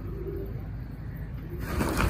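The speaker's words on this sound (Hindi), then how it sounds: "एक कबूतर बैठ गया भाई" A pigeon coos softly in a low, rounded burble, close by, with a brief scuffle of noise near the end.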